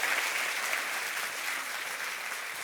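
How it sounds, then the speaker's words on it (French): Audience at a French church gathering applauds after a sermon and interview: steady, dense clapping from many hands that stays even throughout, with no voices over it. "Est-ce qu'on peut l'applaudir bien fort?"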